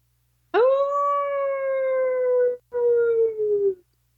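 A man imitates a wolf howl with his voice, a long, loud sustained tone that wavers slightly, then a brief break and a second shorter howl sliding downward, heard alone in a quiet room.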